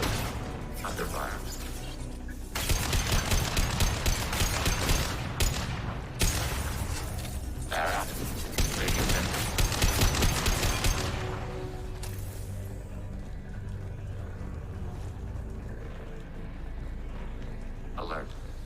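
Bursts of gunfire and impacts in a Mass Effect 2 firefight, dense rattling volleys coming in waves over several seconds before easing off, with game voices speaking over it.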